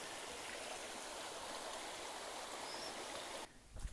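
A misty creek along the Appalachian Trail in Virginia rushes steadily in a broad, close, even wash of flowing water. Near the end it cuts off abruptly, followed by brief low handling noise.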